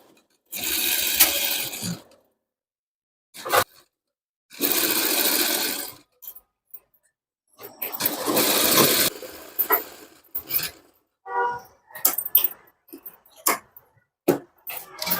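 A sewing machine stitches a blouse in several bursts of rapid whirring, each lasting a second or two. Gaps of quiet fall between them, broken by short clicks and handling noises, all close by.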